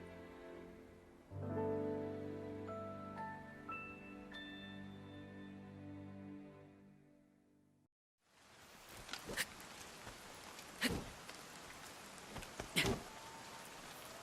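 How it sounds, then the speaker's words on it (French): Rainfall in the game Zelda Breath of the Wild, a steady soft hiss of rain with a few sharper drops and splashes, heard alone after a fading musical passage. "La pluie n'a pas l'air de vouloir s'arrêter."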